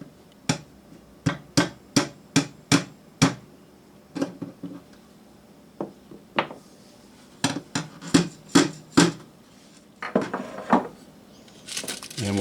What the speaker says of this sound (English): And we'll tack it in with these brads.